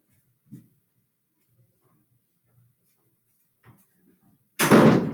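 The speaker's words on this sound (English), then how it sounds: "let me shut the door" A door is pushed shut with a single sharp, loud thud at the very end, after a few faint, scattered knocks and shuffles in an otherwise quiet indoor room.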